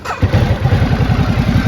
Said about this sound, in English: This is Ducati's full-size sport touring motorcycle. Has a 1200cc twin engine, fuel injected, 6-speed transmission.